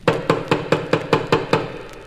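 Hammer blows driving a nail into a loose wooden stair board, eight evenly spaced sharp knocks about a quarter second apart, close and clear with no voices.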